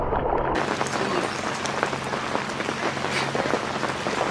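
Steady rain falls at a creekside campsite, a dense, even patter on surfaces close by that fills the whole stretch without a break.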